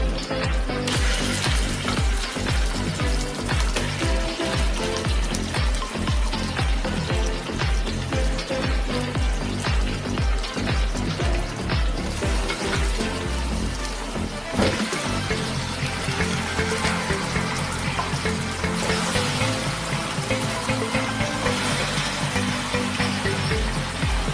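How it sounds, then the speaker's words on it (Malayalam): Chicken is stirred and cooked in a pan, giving a dense, steady sizzle with stirring scrapes. Loud and close, it runs without a break and with no talking. "എന്നിട്ട് നന്നായിട്ട് ഇളക്കി കൊടുക്കാം"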